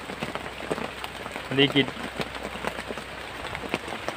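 Rain falls outdoors on an overcast, darkening evening, a steady pattering wash with a few sharper drops, while someone speaks over it.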